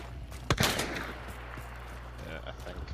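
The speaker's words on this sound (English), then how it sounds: "I think they just took a shot at me" A single sharp gunshot from an enemy team in the video game Hunt: Showdown cracks out at a moderate distance, followed by a brief rolling echo over steady background ambience.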